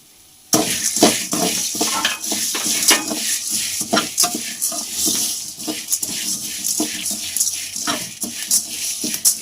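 Asafoetida and curry leaves being dry-roasted in a pan for homemade vangi bath powder: close, continuous scraping and stirring of a spatula against the pan with repeated sharp scrapes and a soft rustle of dry ingredients, without talk.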